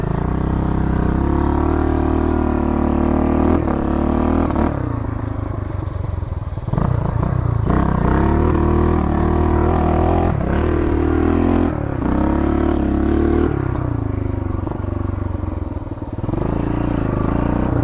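A 1975 Honda Redline Powroll 412cc motorcycle crawls up a hill at idle, close by and loud. Its low engine thrums steadily, with slight surges and dips and some mechanical clatter.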